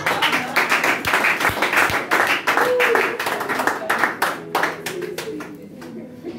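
A church congregation claps in rhythmic bursts to acclaim Jesus, the steady hand claps loud and close, mixed with voices and worship sound throughout.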